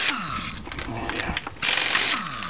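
A hand ratchet clicks rapidly in short bursts while loosening a wheel on a 2004 Subaru Forester during a rear brake pad job, close and fairly loud.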